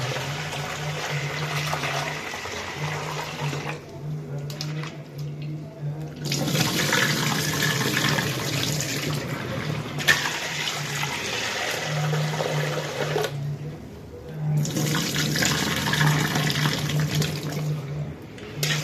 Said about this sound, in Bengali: তো দেখতেছেন ডালটা ধুইতেছি